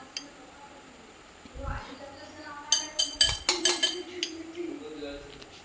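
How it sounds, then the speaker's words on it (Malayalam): Soaked, drained oats go into a mixer grinder jar with a run of sharp clinks and clatters against the jar, louder bursts clustered in quick succession, while a person talks over it. "അപ്പോൾ നമ്മുടെ ഓട്സ് 20 മിനിറ്റ് കുതിർത്ത് വെച്ച ശേഷം അതിലെ വെള്ളമൊക്കെ മാറ്റി ഞാൻ മിക്സിയുടെ ജാറിലേക്ക് ഇട്ട് കൊടുക്കുന്നുണ്ട്."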